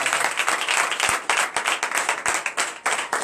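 A church congregation at a Sunday service claps together in steady, dense applause that continues throughout without pause.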